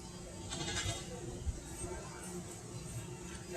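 Goats bleating at a junior livestock goat show, brief calls from the animals amid a busy indoor barn murmur, with a voice talking faintly in the background.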